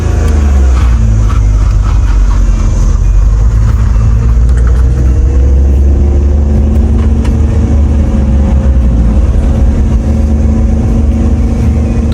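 A car engine strains hard in first gear while climbing a mountain road to Shogran in northern Pakistan, making a loud continuous rumbling drone that stays heavy and constant throughout with no speech.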